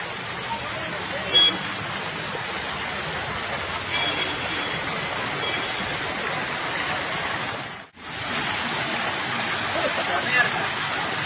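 Water in a stream rushes under a bridge at an irrigation canal near Nallampatti, Perundurai, Erode district, a loud, steady broadband wash that barely changes throughout, with one brief dropout near the end.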